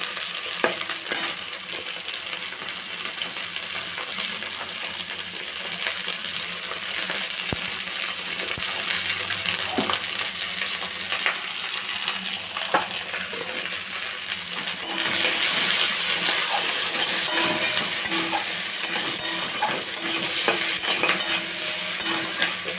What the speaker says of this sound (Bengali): একসঙ্গে কাঁকড়া ভেজে নেবো আলাদা করে।